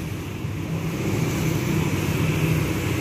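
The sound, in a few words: vehicles passing on a road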